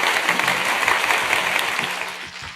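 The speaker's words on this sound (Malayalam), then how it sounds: "ആ മംഗളവാദ്യൻ്റെ ഉപാസകനെ ഒന്ന് നല്ലൊരു കയ്യടി കൊടുക്കാം" An audience claps for a thavil player on an auspicious-music drum. The sustained, moderately loud applause thins and fades toward the end, with faint low tones underneath.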